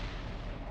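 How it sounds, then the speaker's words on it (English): Artillery fire in a combat flight simulator, a dense low rumbling blast that fills the short moment with broad, heavy noise and no talking. "That's the artillery"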